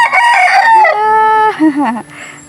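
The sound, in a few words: rooster crowing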